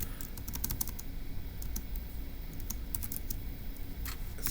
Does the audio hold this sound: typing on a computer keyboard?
yes